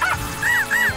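Three quick, bright barks from Robo-Dog, the cartoon robot dog in the PAW Patrol animated series, each with a rising-then-falling yip, evenly spaced across a second, close and clear with no talking over them.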